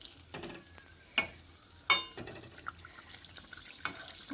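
Poya pitha batter fries in hot oil with a soft, fairly quiet sizzle, punctuated by a few sharp clinks and splashes of utensils.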